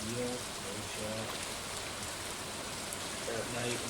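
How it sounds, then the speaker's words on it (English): Steady rain falls at night on a beach in the video game Stardew Valley, a constant even hiss filling the whole stretch, with faint soft game tones layered over it. "At night when it's raining on the beach"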